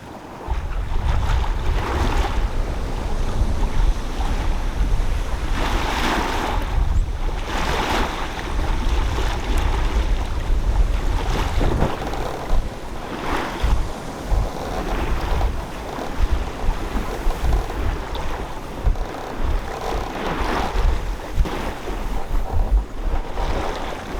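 A sailboat riding out gale-force winds and heavy seas in the Gulf of Alaska: constant loud wind roar and buffeting on the microphone, with waves surging and crashing against the hull in repeated swells, no voices.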